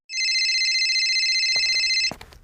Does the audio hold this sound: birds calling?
no